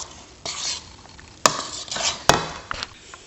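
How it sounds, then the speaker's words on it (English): A spoon stirs and beats fudge marble cake batter in a bowl, giving wet scraping strokes with a few sharp clinks against the bowl's side, close and fairly loud with no talk. "Once you've successfully stirred your mix and have beaten out all of the lumps"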